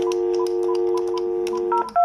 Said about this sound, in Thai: ตอนแรกโทรออกก่อนนะครับ